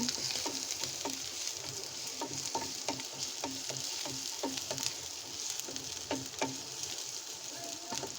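Onion and garlic sizzle in a hot pan before prawns are added, while a spoon scrapes and stirs in a steady, repeated rhythm.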